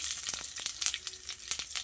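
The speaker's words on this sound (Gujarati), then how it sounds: "રાઈ તતડવા લાગી એટલે મીઠા લીમડાના પાન," Mustard seeds crackle and pop in hot oil, quick irregular snaps over a faint sizzle, close by and fairly quiet.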